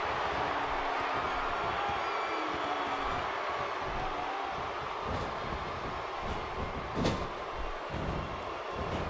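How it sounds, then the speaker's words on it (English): A large arena crowd at a WWE 2K16 wrestling match roars in a sustained, dense rumble, steady and loud throughout with one brief sharp peak near the end. "by the sound of this crowd, I think they're getting what they wanted"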